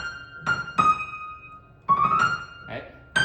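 A piano plays a short right-hand phrase of a Sailor Moon melody: a handful of distinct struck notes in an uneven rhythm, each ringing on briefly, played close up and alone.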